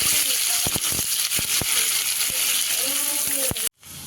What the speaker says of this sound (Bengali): পেঁয়াজ আর লঙ্কাটা ভাজা হয়ে গেছে